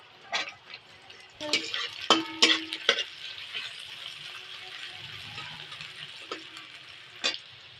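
Chopped onion and carrot are stir-fried for egg chowmein, a spatula clattering sharply against the pan in quick knocks over a soft, steady sizzle.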